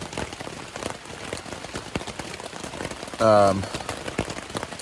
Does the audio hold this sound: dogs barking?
no